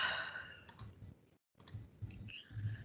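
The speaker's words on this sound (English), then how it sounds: "I guess Matthew's typing his comment" Someone typing a comment on a computer keyboard during an online meeting, faint scattered key clicks in short bursts with a brief silent gap, no talk.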